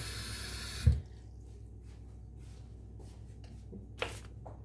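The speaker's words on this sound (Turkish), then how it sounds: "Şöyle bir fincan döktüm." Freshly made coffee poured into a cup at home: a short, steady liquid rush in the first second, then a quiet room with a few faint clinks and taps.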